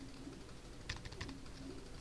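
Several quick keystrokes on a computer keyboard, a short burst of light, close clicks in the middle against a quiet room hum, with no speech.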